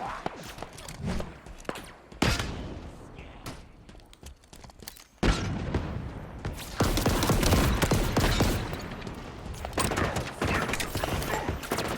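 Pistol gunfire in Halo Infinite rings out in repeated sharp bursts amid loud, dense battle noise, with the firing growing heavier and more continuous toward the end.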